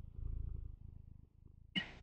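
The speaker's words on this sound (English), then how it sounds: "You're just purring constantly." A cat purrs steadily inside the VR game Blood on the Clocktower, a low continuous rumble that ends with a brief, louder burst of sound.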